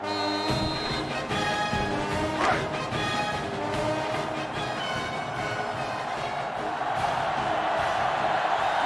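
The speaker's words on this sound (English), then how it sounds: "And this crowd is going absolutely crazy." A stadium crowd roars in the NCAA 06 football video game after an Auburn touchdown against LSU, a dense, loud, sustained cheer that stays steady throughout.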